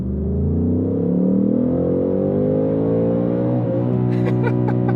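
A Ford Mustang Mach 1 with a 5.0 V8 pulls hard in first gear, its loud, close engine note climbing steadily in pitch for several seconds before easing off, with faint clicks near the end.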